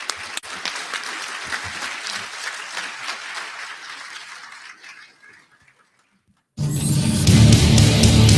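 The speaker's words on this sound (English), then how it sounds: "please give a round of applause to Rob Rinker." Audience applause at an awards ceremony for powerboat racing hall of fame inductees, loud clapping that fades out to near silence, then a second, even louder burst of applause starts abruptly.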